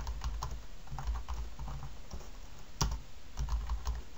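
Close, steady clicking of fingers typing on a computer keyboard, a rapid run of keystrokes with brief gaps and no talking.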